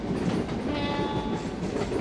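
A train in the Trainz simulator, the Kakatiya Express of Indian Railways, rolls into a station below 40 km/h with steady rumble and clickety-clack of the wheels on the rails, no voices.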